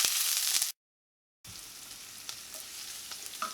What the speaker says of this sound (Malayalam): ഇതിലേക്ക് ചതച്ചെടുത്തേക്കണ ഇഞ്ചിയും വെളുത്തുള്ളിയും പിന്നെ സവോളയും പച്ചമുളകും ചേർക്കുക.